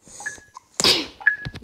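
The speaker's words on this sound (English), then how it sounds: "I did not know you sneeze like that." A single sharp sneeze bursts out close to the microphone, surrounded by a few quieter mouth and breath noises.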